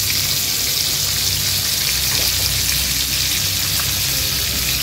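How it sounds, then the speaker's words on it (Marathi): Pink perch (Rani fish) shallow-frying in a pan over medium-low flame, giving a steady, close hiss of bubbling oil with scattered small pops that runs unbroken throughout. "आपण गॅसची फ्लेम मीडियम टू लोवर करणार आहोत आणि एक 3 ते 4 मिनिटांसाठी एक बाजू फ्राय करून घेणार आहोत"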